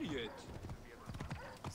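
Horse hooves clip-clop in the video game Assassin's Creed Origins: faint, quick hoofbeats running under someone talking in German throughout.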